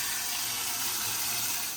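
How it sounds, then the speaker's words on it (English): Tap water runs steadily into a stock pot, a continuous close hissing splash with no break, filling the pot alone with no talk over it. "I just fill it up with water and bring it to a boil."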